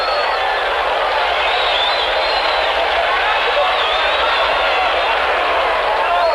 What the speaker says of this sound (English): Cheering and yelling going on down the way as they approach the cars